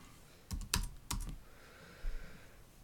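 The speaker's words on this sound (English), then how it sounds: "let's type it in here" A computer keyboard being typed on during a coding session: a few quick, close clicks in two short bursts, with quiet pauses between them.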